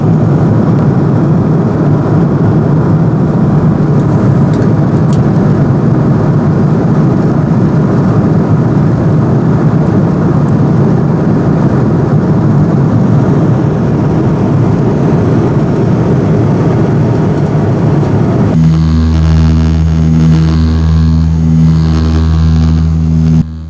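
Steady airplane cabin drone in flight over southeastern Greenland, a loud, constant broadband roar, with a strong tonal engine hum rising in the final seconds, no talking.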